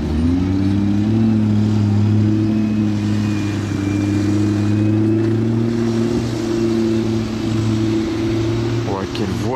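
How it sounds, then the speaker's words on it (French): A McLaren P1 supercar comes back past at a car event, its steady engine drone loud and continuous, with a brief rising rev at the end. "Et McLaren P1 qui revient."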